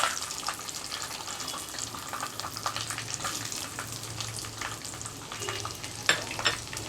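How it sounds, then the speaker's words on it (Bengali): Chopped onions hit hot oil in a pan while a Bangladeshi chicken jhal fry is being cooked, giving a soft steady sizzle dotted with sharp crackles and pops, fairly close, with a low hum underneath. "প্যানে তেলটাও গরম হয়ে এসেছে আমি এর ভিতরে এখন পেঁয়াজ কুচি দিয়ে দেবো"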